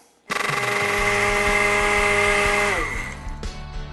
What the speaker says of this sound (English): I hope everyone woke up from the screaming in the blender